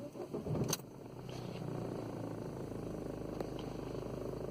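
A Ford Fiesta 1.6 TDCi diesel engine with a P2565 wastegate fault cranks briefly and catches, then settles into a steady low idle that runs on alone, close and fairly quiet.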